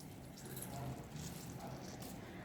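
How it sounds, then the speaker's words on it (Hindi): Minced chicken gets squeezed by hand to press out excess water, giving soft, close squishing and dripping sounds in a quiet kitchen, with no voice over it. "अब हम क्या करेंगे कि इसमें से जो एक्स्ट्रा पानी है ना, वो सारा हम निचोड़ लेंगे।"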